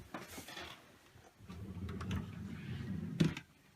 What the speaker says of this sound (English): I will show you my desk drawer.